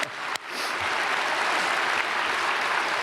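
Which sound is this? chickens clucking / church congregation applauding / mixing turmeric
church congregation applauding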